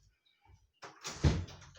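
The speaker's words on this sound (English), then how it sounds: "Let me open the door." A door being opened by hand, a soft rustle and click followed by a scraping, swishing movement with a dull thump, close by in a quiet room.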